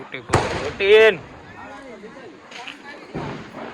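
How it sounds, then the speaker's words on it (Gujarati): Diwali firecrackers burst outdoors in a few loud, sharp bangs, one right at the start and another near the end, while people talk and call out between them. "ફટાકિયા ફૂટી"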